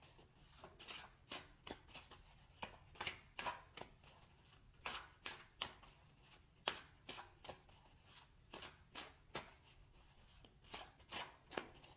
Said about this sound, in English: So now I'm going to choose 2 cards for possible outcomes for the week.